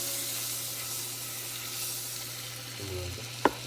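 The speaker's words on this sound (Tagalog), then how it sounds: "Mag-gisa na tayo ng ating ricado." Garlic and onion sauté in hot oil in a pan for chicken adobo, a steady close sizzle throughout, with a brief stir and a sharp clink near the end.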